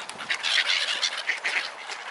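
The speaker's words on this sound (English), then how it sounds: "It's the seagulls." Seagulls squawking in a chorus of overlapping, fairly loud calls, close by and steady, with no talk.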